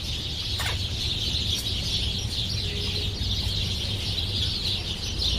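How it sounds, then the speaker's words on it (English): Birds calling outdoors in Ferndale, Michigan, with a rooster- or fowl-like clucking voice set against a steady band of chirping and a constant low rumble of traffic, no talking. "What's wrong with the birds in Ferndale?"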